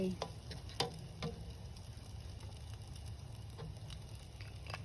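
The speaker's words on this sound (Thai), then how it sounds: "ง่ายๆคั่วข้าว ใส่น้ำสะอีใส่ไข่" Rice and egg stir-fried in a pan make a quiet, continuous sizzle with scattered scraping ticks from stirring, heard from a short distance.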